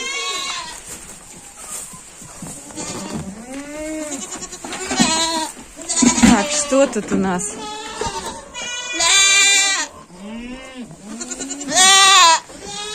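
Several goats bleat loudly and repeatedly up close in a barn, their wavering cries overlapping, while a person speaks briefly between them.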